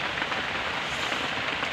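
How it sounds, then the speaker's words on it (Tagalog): Heavy rain pours down steadily, a dense, continuous hiss of drops drumming on surfaces close by, with no voices over it. "Ang lakas, oh. Oh. Bumuhos. Naulan ngayon."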